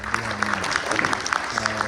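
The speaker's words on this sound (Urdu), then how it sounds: "تو ان تینوں اداروں کے لیے آپ ایک بار زوردار تالیاں بجائیں۔" Audience at a Lahore storytelling event breaking into loud, dense applause, continuous clapping filling the short stretch with a faint voice underneath.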